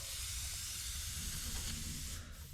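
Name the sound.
airbrush spraying out while being cleaned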